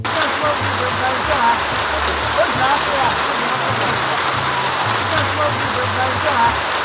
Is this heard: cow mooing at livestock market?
no